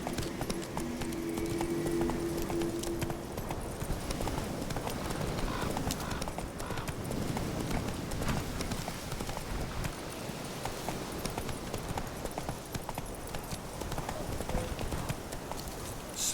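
Horse hooves clip-clop steadily under a rider in The Witcher 3, a continuous trotting rhythm over low game ambience, with a brief whinny-like tone near the start.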